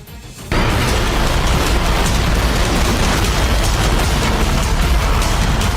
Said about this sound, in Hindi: ये वो तस्वीर है जिसमें यूक्रेन ने रूस के यूरेगन रॉकेट लॉन्चर को तबाह कर दिया था